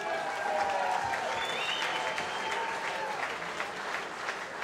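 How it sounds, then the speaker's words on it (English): A fight-night crowd gives a sustained round of applause, a dense clatter of clapping that holds steady throughout, with faint whistles rising over it. "Ladies and gentlemen, another warm round of applause."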